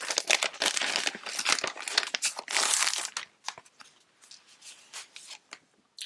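Double-sided watercolor-look crafting paper from a summer beach and watermelon collection crinkles and rustles as it is handled, in dense close bursts that thin into scattered crackles toward the end, with no talking.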